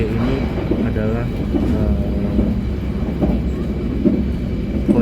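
The KA Sawunggalih passenger train runs on its rails, heard from inside as a steady rolling rumble with rhythmic wheel clatter, while voices talk faintly over it.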